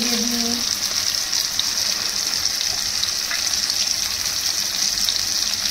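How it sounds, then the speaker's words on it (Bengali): Slices of bitter gourd fry in hot oil with a steady, even sizzle that runs the whole time, moderately loud, with a brief faint voice near the start. "আর এই যে উচ্ছেটা ভেজে দিচ্ছি"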